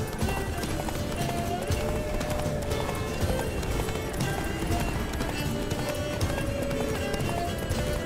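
Hooves of the horse Roach pound in a fast galloping rhythm in The Witcher 3, a dense, continuous clatter of clip-clops with game ambience and occasional snorts underneath.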